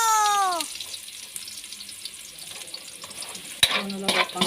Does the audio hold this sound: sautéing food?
yes